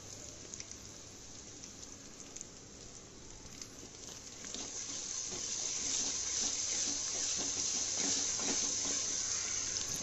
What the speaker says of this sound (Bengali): এই আদা রসুনের পেস্ট দেওয়ার পরে ভালো করে কষিয়ে নেব